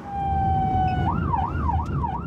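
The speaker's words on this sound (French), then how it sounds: "Le docteur D'Alessandro quitte la Salpêtrière en ambulance pour se rendre à l'aéroport du Bourget." An ambulance leaving the Salpêtrière hospital in Paris sounds its siren, loud and close. It holds one steady tone, then switches into a rising and falling wail over road rumble.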